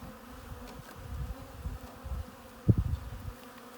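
Package honey bees buzzing inside a newly installed hive, a low steady hum with a few louder swells of wingbeats close by, no voices.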